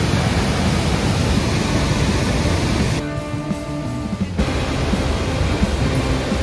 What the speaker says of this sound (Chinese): 这个瀑布到底多大啊？